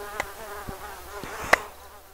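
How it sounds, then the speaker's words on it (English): Mosquitoes buzzing in a sugarcane field, a thin whining hum that drifts in and out close by, with a few soft knocks and rustles and no talking. "Never had so many mosquitoes in my life, I swear."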